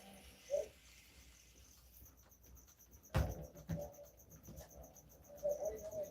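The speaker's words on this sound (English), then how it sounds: "this is where all of the babies and the adult crickets are right now" Baby and adult crickets kept in a container give a faint, steady high chirping throughout, with scattered clicks, bumps and one sharp knock partway through.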